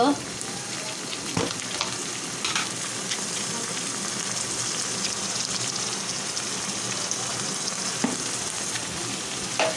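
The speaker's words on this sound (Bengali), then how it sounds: "আর টমেটোগুলো দিয়ে দিচ্ছি একসাথে মশলার সাথে কষিয়ে নিই" Tomatoes frying in a pan with turmeric and red chili powder, a dense steady sizzle with stirring scrapes and a few sharper spatters, loud and close throughout.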